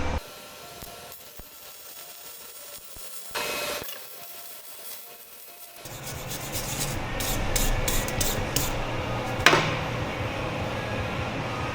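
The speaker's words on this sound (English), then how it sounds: "So we're gonna be doing stick welding." Stick welding underway, a steady crackling and sizzling arc that starts partway through and continues with irregular pops, close and moderately loud.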